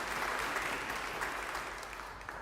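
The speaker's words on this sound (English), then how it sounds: "give her a round of applause" Steady audience applause at an evening church gathering with an author, dense and sustained clapping from a room full of people that slowly tapers toward the end.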